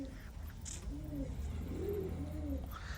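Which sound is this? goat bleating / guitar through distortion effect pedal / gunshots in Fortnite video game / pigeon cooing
pigeon cooing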